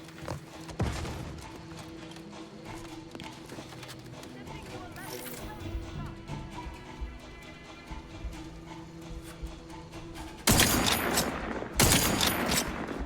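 In The Outer Worlds 2, a person talks over a quiet game scene before two loud, harsh bursts of gunfire erupt near the end.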